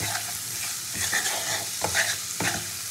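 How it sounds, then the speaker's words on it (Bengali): Chopped onion sizzles steadily in hot oil in a pan while a spoon stirs it in several distinct scraping strokes, close and fairly quiet, with no talking. "এবার পেঁয়াজটাকে খুব ভালো করে ভেজে নিতে হবে।"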